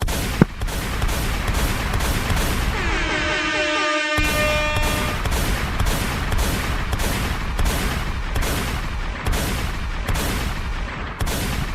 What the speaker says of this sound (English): Okay, enough gunshots.